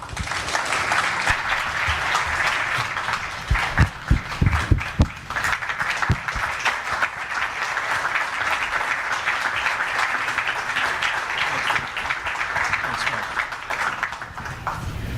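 Audience applause welcoming the Vice President at a CEO town hall on American business, a steady, loud wash of clapping that holds for the full stretch, with a few sharper claps standing out midway.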